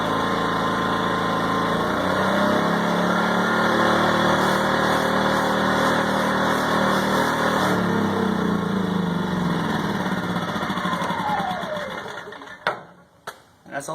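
A WEN 2500W inverter generator runs with a steady, fairly loud engine drone, then winds down and shuts off near the end, leaving a few clunks.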